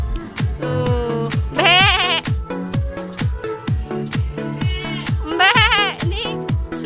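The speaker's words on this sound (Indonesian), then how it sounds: "Ini kambingnya nih. Kambingnya." Goats bleat at a petting farm, two long wavering cries rising clearly over a steady rhythmic pulsing background for most of the stretch.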